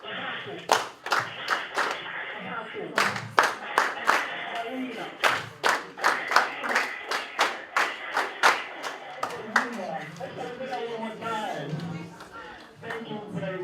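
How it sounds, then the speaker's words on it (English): An audience claps for the host at a World Book and Copyright Day 2021 class event, sparse, uneven hand claps building into a rhythmic patter of individual claps, close and fairly loud, with voices talking over parts of it. "Let's give our host a round of applause."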